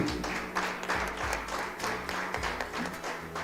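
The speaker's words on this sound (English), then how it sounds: "Give yourselves a round of applause" An audience at a staff awards event applauds the recipients, steady mid-level clapping running through the whole short stretch with a low background hum.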